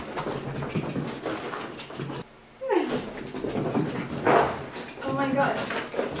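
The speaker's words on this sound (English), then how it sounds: "My dog's going bonkers." An excited dog pants, whimpers and gives short yelps at close range in a home. The noises come in restless bursts with a brief pause, and someone talks over them.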